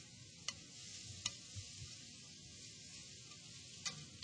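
Meat sautéing with pepper in a pan gives a quiet, steady sizzle, broken by a few sharp clicks and scrapes as it is stirred.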